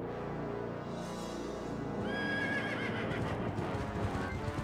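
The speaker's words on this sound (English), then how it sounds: "now he's coming at us with an army of ghost horses" Ghostly horses neigh and whinny over galloping hoofbeats and a dense orchestral score in the Zelda: Twilight Princess finale, loud and continuous, with a rising whinny standing out partway through.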